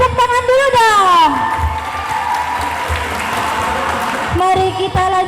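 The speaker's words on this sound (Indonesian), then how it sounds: "Kalau keren, beri tepuk tangan dulu dong." An audience at a pesantren's Hari Santri Nasional competition bursts into loud applause and cheering after a student speech. A voice carries over the opening and returns near the end, with the crowd clapping strongly in between.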